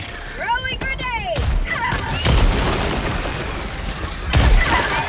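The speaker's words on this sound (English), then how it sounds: "Throwing grenade." Grenade blasts in Helldivers 2, with two loud booming bursts around the middle and end over a busy game soundscape of chirps and rumble, voices talking in between.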